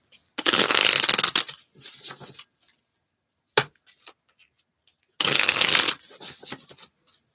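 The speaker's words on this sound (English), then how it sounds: "Okay, 2 more shuffles." Tarot cards being shuffled, with two brisk riffling bursts separated by a pause, plus scattered soft card taps and handling noises in between, close and clear with no talking.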